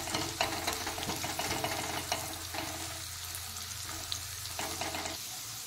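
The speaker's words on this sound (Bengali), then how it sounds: "দিয়ে পেঁয়াজটা আমি লাল করে ভেজে নেব।" Onions sizzle steadily in hot oil in a pan for Bengali puffed rice fry, a close, continuous crackle broken by occasional scrapes and clinks of stirring.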